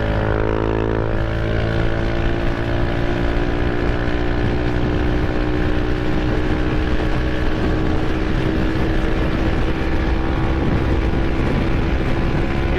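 A Yamaha XMAX 300 scooter engine, its clutch just cleaned, revs hard and holds a loud, steady high-rpm drone with a rising tone at first, close and continuous with no talk.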